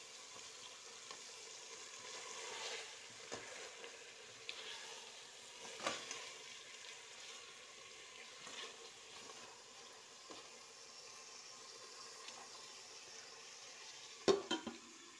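Onions and meat frying in a pan while being stirred, a steady soft sizzle with scattered scrapes and clinks of the utensil against the pot, ending in a louder knock.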